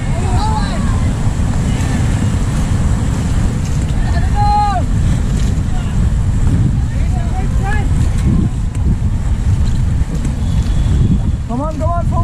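River rafting at Rishikesh: rushing water and wind noise roar steadily throughout while voices shout to one another over the paddling.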